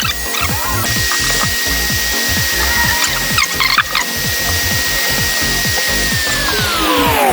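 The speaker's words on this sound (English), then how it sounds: "now take a heat gun or a hair dryer" A heat gun or hair dryer warms a rubber PC cable sleeve near a computer board, giving a loud, steady blowing whir with rapid rattling ticks underneath throughout, and no talking.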